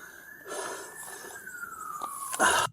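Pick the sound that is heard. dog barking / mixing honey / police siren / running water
police siren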